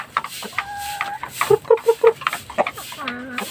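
A young white Aseel rooster gives a short run of clucks and a brief crow-like call nearby, with a few quiet pauses between the calls.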